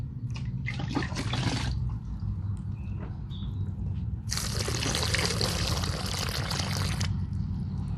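Water pours into holes in garden soil in two bursts, a short splash then a longer steady stream, trickling down into the ground over a low rumbling background.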